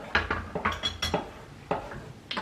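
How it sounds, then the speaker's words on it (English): A spoon scrapes and knocks against a metal cooking pot while taro is stirred, giving about a dozen irregular clinks and scrapes, close and fairly clear, with no talking. "Keep stirring without making too much noise"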